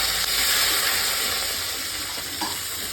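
Garlic paste, bay leaves, cinnamon and cardamom sizzle in hot mustard oil left from frying potatoes, a steady close hissing fry with no talking.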